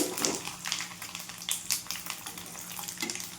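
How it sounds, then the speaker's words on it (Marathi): Whole spices roast in hot oil, giving a close, crackling sizzle with irregular spitting pops and bursts of frying noise, heard alone without talk. "तेल आपलं छान गरम झालं आहे, मसाला भाजून घेते।"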